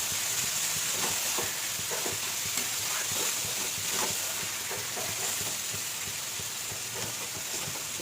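Marinated meat fries in a spiced masala in a pan. A steady, close sizzling hiss carries throughout, with faint scraping from stirring now and then and no voices.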